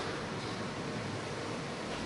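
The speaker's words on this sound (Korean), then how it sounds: "파도 좋다." Ocean surf roars as a dense, continuous broadband wash, loud and steady throughout with no voices.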